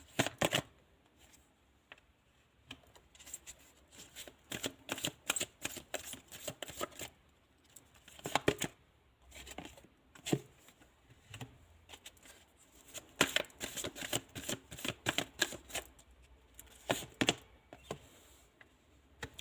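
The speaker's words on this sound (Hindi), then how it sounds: "मैं सभी कार्ड ले लूँगी आप लोगों के लिए, फिर आपको रीडिंग दूँगी।" Tarot cards are shuffled and gathered into a deck, a rapid, close run of crisp riffling snaps and soft slaps in uneven bursts, with no talk.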